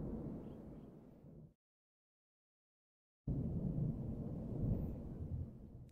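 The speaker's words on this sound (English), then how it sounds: "I'm sure you can probably possibly hear that thunder. It's really loud." Loud rolling thunder from a storm rumbles deep and broad, breaks off into a brief silence, then surges back in a heavy, sustained roar.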